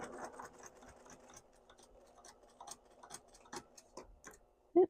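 A home sewing machine stitches fabric for a small gift card wallet. It runs at a slow, steady pace with a quiet, rhythmic ticking, ending in one sharp louder clack.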